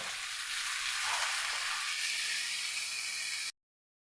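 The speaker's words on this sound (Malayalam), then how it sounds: "എണ്ണയിലൊന്ന് ചൂടായതിന് ശേഷം നമ്മൾ ചതക്കി വെച്ചിട്ടുള്ള നമ്മുടെ ഈ ഒരു തേങ്ങയും മാങ്ങയും കൂടെ വെച്ച്" Crushed coconut and mango sizzling in hot oil in a pan, a steady, close frying hiss that holds evenly for about three and a half seconds before cutting to silence.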